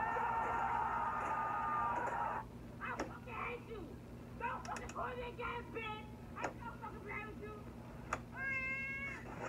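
Repeated cat meows in a meme compilation, several short rising and falling calls spread across the clip after a steady opening tone, with voices talking underneath.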